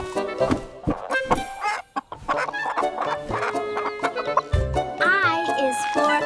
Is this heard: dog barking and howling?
no